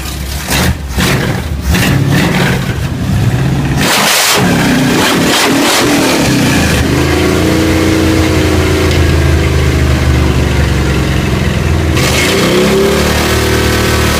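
A 1937 Ford rat rod engine fires up loud and close, cranking and sputtering, then rumbling and revving hard with a throaty roar that settles into a steady idle before climbing again.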